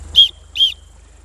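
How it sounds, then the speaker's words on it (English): Two short, sharp whistle blasts, shrill and close, each followed by a brief pause, used as a river rescue signal. "something like three whistle blasts"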